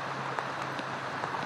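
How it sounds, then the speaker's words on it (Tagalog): Heavy rain pouring steadily outdoors, a dense, even hiss of falling water with scattered drop impacts throughout. "Sa lakas ng ulan."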